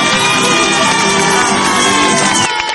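A dense, loud crowd at a chili pepper festival in Diamante whoops and shouts in celebration for the winner of a satirical cartoon contest, with the roar dropping off abruptly near the end.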